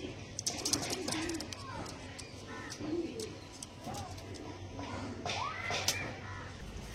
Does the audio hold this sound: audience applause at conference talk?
no